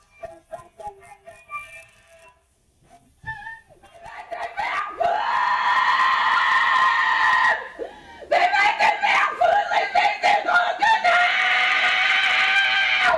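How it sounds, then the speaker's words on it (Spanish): A person in a sect gathering screams loudly and at length, with sustained strained cries broken by brief pauses, following quieter muffled voices at the start. "Vemos a una persona gritar"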